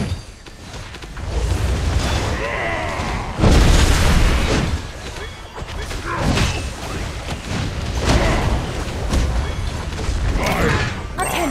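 Enemy turret destroyed in the mobile battle game Marvel Super War, with a loud booming explosion and thuds among other game effects, while voices talk over the action.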